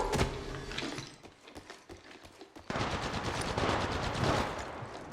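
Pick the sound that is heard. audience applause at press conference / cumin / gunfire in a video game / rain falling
gunfire in a video game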